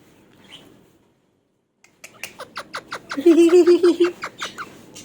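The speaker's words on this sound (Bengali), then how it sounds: "পাখিটা কত সুন্দর করে কথা বলতেছিল" A pet talking parrot makes a run of sharp, rapid squawks and chattering calls close by after a quiet start, growing louder toward the end.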